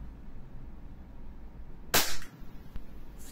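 A single sharp, loud shot from a WE Glock 17 Gen 3 airsoft pistol stands out near the middle, with a short bright report over a quiet room hum and a few small mechanical clicks afterward.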